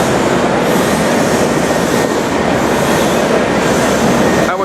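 Virgin train to King's Cross passing a station platform, a loud continuous rumble and rattle of wheels on rail, close by.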